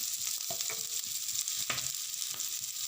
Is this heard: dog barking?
no